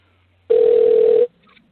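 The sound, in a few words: telephone ringing during outgoing call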